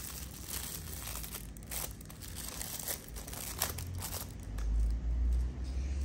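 Plastic wrap crinkles and rustles around a brownie on a stick as the ends are folded up and taped, a close, continuous crackling with sharper crunches, ending in a heavier low handling thump.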